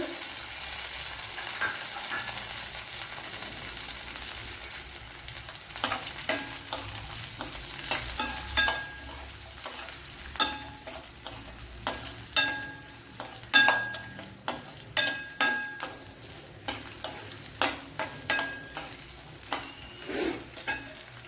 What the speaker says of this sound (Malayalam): ഇവിടെ വെളുത്തുള്ളിയൊക്കെ ഒരുവിധം മൂത്തിട്ടുണ്ട്.